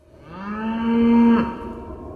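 A single cow moos on a prairie of the American West, one clear drawn-out call that swells and fades over about two seconds, close and alone.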